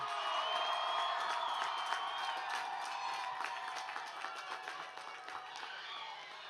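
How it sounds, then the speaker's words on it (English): A crowd at a high school commencement ceremony for the class of 2021 applauds and cheers at a distance, a sustained wash of clapping with scattered whoops across open space. "Let's give them one more round of applause for 2021."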